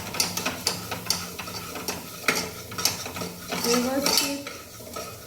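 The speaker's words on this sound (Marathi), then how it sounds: "हे सगळं मिक्स करून घ्यायचं" A spoon stirs and mixes ingredients in a metal pot, scraping and clinking against the sides with irregular close taps over a faint sizzle; a voice speaks briefly.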